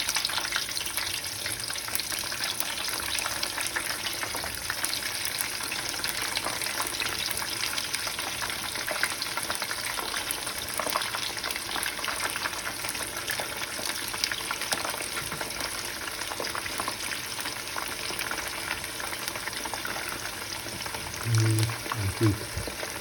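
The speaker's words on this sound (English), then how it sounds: "I don't like the oil when it splashes out" Oil sizzles and crackles steadily in a pan for a long stretch, with occasional pops and splatters over a constant frying hiss, while frying cauliflower and chicken for maqlouba.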